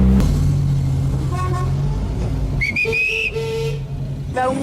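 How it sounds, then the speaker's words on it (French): A 1973 Triumph, an English car, drives through Lyon with a steady low engine drone throughout, while several high whistle-like toots sound over it midway and near the end. "C'est un véhicule de 1973, marque Triumph."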